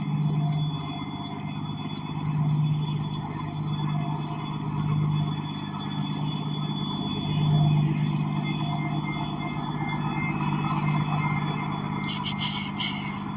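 Steady rumble of a bus engine idling and moving amid street traffic during boarding, continuous and fairly loud with gentle swells, a faint voice briefly audible underneath.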